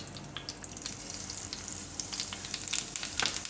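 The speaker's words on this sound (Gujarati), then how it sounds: "તો ઘી આપણું ગરમ થઈ ગયું છે. તો એમાં આપણે નાખીશું થોડુંક રાઈ" Mustard seeds and cumin sizzle in hot ghee for a tempering, a soft continuous hiss dotted with small crackling pops that grow a little busier toward the end.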